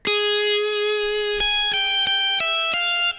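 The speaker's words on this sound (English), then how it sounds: "That didn't sound like light distortion to me." Sustained electric guitar notes with a buzzy, lightly distorted edge from a light distortion effect, one long note followed by several quick plucked changes in a rhythmic pattern.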